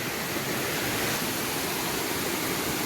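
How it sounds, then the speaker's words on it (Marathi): A flowing village stream rushes steadily, a loud and continuous broadband wash of water with no voices over it. "असं पाणी वाहत आहे इकडे"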